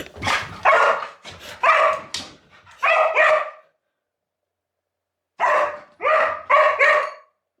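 A dog barks in quick loud bursts close by, a run of barks, a short pause, then four more.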